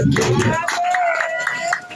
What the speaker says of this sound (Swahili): Ongeza makofi